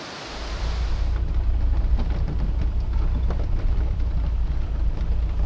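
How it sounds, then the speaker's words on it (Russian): A turbulent, swollen river rushes steadily beside a riverbank track, a dense broadband roar with low rumble and wind buffeting the microphone, continuous and close, with no speech. "я обратил внимание на бурный поток реки с шумом, стремящийся по одному ей ведомому маршруту"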